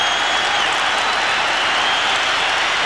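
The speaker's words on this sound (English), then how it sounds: "Laudrup leaving the field to tremendous applause" A large football stadium crowd applauds a player leaving the pitch, a dense, loud, continuous wash of clapping and cheering with no break.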